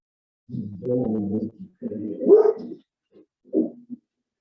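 A dog outside in the rain barks and whimpers in a few short bursts, moderately loud and somewhat distant, with pauses between the vocal outbursts.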